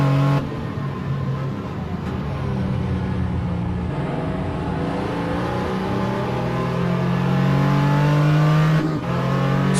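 Onboard engine of a number 55 Porsche 935 K3 historic sports car in a sim race at Mid-Ohio, a loud continuous rasping drone that rises and falls in pitch with gear changes and throttle through the corners.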